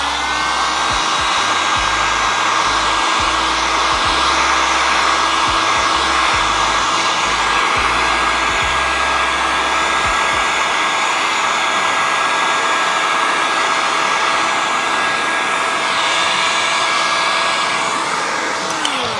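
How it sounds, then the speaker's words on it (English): A heat gun blows steadily on window tint film, held close and aimed upward along the top edge, making a loud, continuous whooshing roar with a faint motor whine that runs unbroken from start to finish. "you want to point your heat gun upwards"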